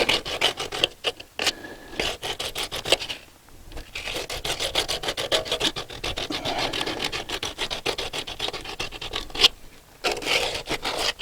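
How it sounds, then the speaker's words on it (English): Sandpaper rasping back and forth over the freshly cut edge of a 1 1/4 inch water main pipe, a close, steady run of quick scratchy strokes with brief pauses between bursts. "get yourself some sandpaper, and where I cut here, you just want to deburr it"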